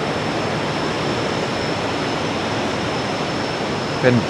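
Khone Phapheng waterfall on the Mekong in southern Laos, a steady broad roar of falling water filling the whole clip, with a faint brief sound at the very end.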